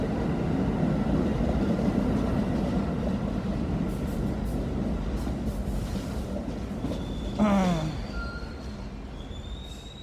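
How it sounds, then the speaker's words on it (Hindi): A passenger train pulls into a station with a steady rumble of rolling carriages and wheel clatter, then brief metallic brake squeals near the end. Fairly loud and close, with no talking. "फाइनली ट्रेन आ गई है और ट्रेन में बैठ के अब हम यहाँ से निकलते हैं घर की तरफ।"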